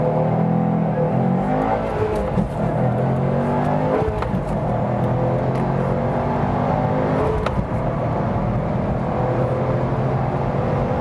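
A Subaru WRX STi accelerating hard on the Autobahn, heard from inside the cabin as a loud, continuous engine and road roar with rising engine tones through the gears.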